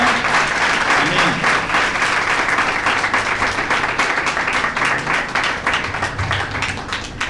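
A church congregation claps loudly and continuously for several seconds in a dense, full-room burst of applause, with no talk over it.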